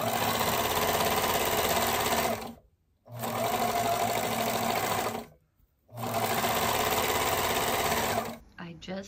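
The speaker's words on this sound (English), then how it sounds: "So I'm just gonna overlock the top and the bottom just because there's gonna be more weight on it with the hem and at the top." An overlocker sews the top and bottom edges of sheer curtain fabric in three long, loud, steady whirring bursts separated by brief pauses, with the machine running alone and no one talking.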